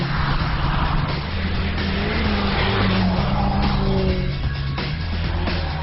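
A BMW E30 M3 engine roars loudly throughout a fast lap of a test track, holding a steady high drone with shifting pitch and faint tyre noise, heard close from onboard with no talk.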